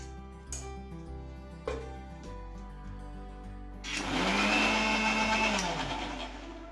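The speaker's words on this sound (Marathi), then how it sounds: "पाणी न टाकता आपण आता ही डाळ वाटून घेतोय मिक्सरला" Mixer grinder grinding soaked green moong dal with cumin and garlic, no water added: a few seconds of quiet handling clicks, then a loud, steady whirring grind with a rising motor whine that runs to the end.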